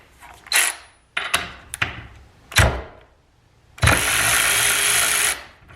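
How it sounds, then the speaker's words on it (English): Milwaukee cordless ratchet breaking a bolt free, with clanks and handling knocks before a sustained loud buzzing run of about a second and a half near the end. "Now the Milwaukee at 40 foot-pounds, it did break it free, but I did have to pull that trigger twice."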